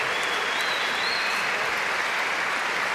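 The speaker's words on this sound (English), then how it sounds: "Sporting applause" Sustained applause fills a boxing arena after a bout, a dense, steady wash of clapping from a large crowd that continues without pause.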